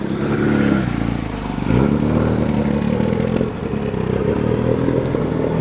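A classic Mini rally car in the style of the 1960s BMC works cars gives off a loud, fruity engine drone with steady revving and rattly clatter, close by and continuous, with no one talking.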